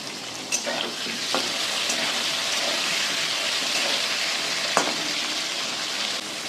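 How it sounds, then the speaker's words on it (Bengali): Potatoes frying in a pan make a dense, even sizzle and crackle close by, with a few sharp scrapes and knocks of stirring, and no voices. "এবার আলু কটা আমি খুব ভালো করে ভেজে নেব"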